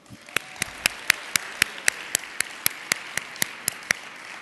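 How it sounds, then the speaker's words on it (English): Sparse, evenly spaced claps ring out about four times a second at a conference closing-session lunch, sharp and moderately loud, with no voices. "please join me in a big round of applause"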